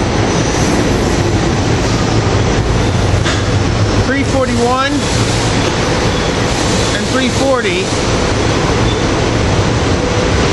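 SEPTA Silverliner IV electric commuter rail cars pull into 30th Street Station, a loud continuous rumble with rising and falling whine tones as they slow, while someone talks over it.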